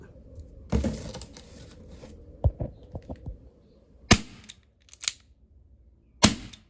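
Several sharp snapping BB gun shots ring out at irregular intervals, with quieter clicks and mechanical rattles between them, close by and fairly loud.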